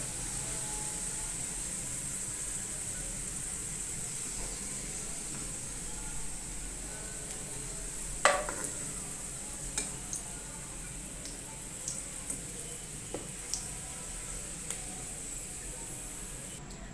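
Onions with whole garlic and ginger fry in hot oil, giving a steady soft hiss of sizzling throughout, with occasional faint ticks and pops and no talking.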